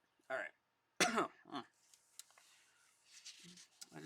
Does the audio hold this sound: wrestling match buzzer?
no